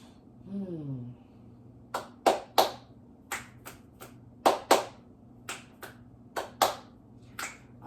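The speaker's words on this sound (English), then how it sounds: "I'm working on my clap snaps." A series of sharp, crisp snaps and claps ring out in an uneven rhythm, about a dozen in all, close and fairly loud against a quiet room hum.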